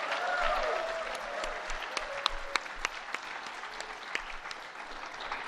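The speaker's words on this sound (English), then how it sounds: "One more round of applause." At a music hall of fame induction ceremony, the audience applauds in a dense burst that gradually thins, with a few sharp individual claps standing out as it fades.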